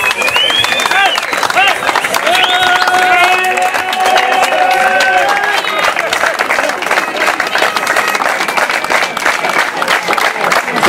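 Crowd applause at a competition results ceremony for the second-place finisher, a dense, continuous patter of clapping throughout, with a loud amplified voice speaking over it.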